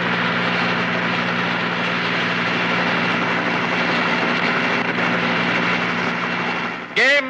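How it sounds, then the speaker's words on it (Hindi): Helicopter passing low over a stadium during a game, a loud sustained broadband rotor and engine roar with steady low thrumming that holds throughout, easing slightly near the end before a brief sharp whine. "इस हेलीकॉप्टर की आवाज ने तो मेरी कंसंट्रेशन ही तोड़ दी।"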